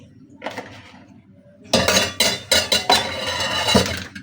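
A dish is covered with its lid and set aside on a kitchen counter while a pizza is made in a frying pan, giving a series of loud, close clinks and clatters of metal cookware and utensils after a quieter stretch.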